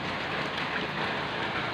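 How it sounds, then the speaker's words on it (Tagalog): Heavy rain pours outside a house during a Saturday downpour, a dense, loud, continuous wash of drumming drops with no pauses and no voices. "ang ulan ngayon, ang Saturday, napakaulan"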